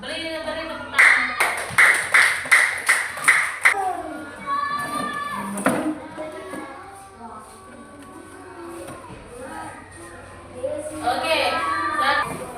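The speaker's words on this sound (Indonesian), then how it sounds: "Beri tepuk tangan." A class applauds a student group as they return to their seats, a few seconds of brisk clapping that fades into children's voices and classroom chatter, with people talking afterward.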